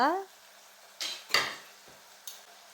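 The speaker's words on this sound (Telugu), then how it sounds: "ఆనియన్ ఇలా వేగిన తర్వాత కట్ చేసుకున్న టమోటా వేసుకొని కలుపుకోవాలి" Chopped tomato being stirred into fried onions in a pan, heard as a short voice-like tone at the start followed by a few distinct scraping clinks of a utensil against the pan, spaced apart and close.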